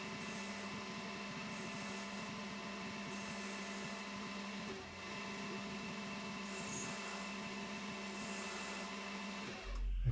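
A Sheridan metal lathe runs steadily while chamfering the edge of a leadscrew workpiece, a constant mechanical hum with a faint whine, cutting off abruptly near the end.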